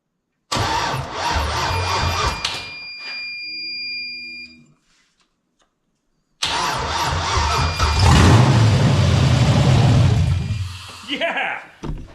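LS-swapped Ford LTD Crown Victoria engine cranking loudly, stopping briefly, then cranking again and catching into a rough, loud running idle up close, with people shouting over it.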